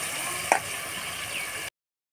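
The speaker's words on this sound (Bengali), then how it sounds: "তেল ছেড়ে দিয়েছে, দিয়ে দিচ্ছি ধুয়ে রাখা ছুটি দিয়েই নাড়তে থাকবো" Tender drumstick vegetables fry in oil with cooked-down spices, making a steady close sizzle. A single sharp clatter of stirring comes early, then the hiss continues alone.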